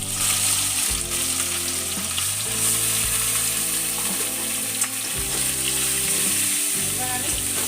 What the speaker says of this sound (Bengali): চিকেনগুলো এবার আমি হালকা ফ্রাই করে নেব